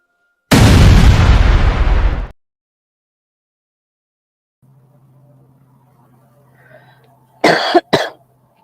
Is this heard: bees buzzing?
no